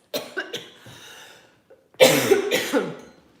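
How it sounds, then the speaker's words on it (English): A coughing fit from one person: a few harsh coughs, a brief pause, then a louder cluster of rough, hacking coughs close to the microphone. "Oh no, I might go into one of my coughing fits."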